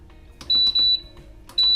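An Instant Pot gives three sharp electronic beeps as its sear mode is chosen, two close together and a third after a pause, loud against a quiet kitchen hum.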